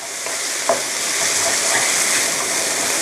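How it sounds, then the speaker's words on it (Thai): Vegetarian glass noodles stir-fried in a sweet-sour-spicy sauce in a pan give a steady close sizzle with a few scraping stirs of a utensil, and no voices. "เดี๋ยวผัดอย่างนี้นะคะจนกระทั่งเส้นนิ่มค่ะ"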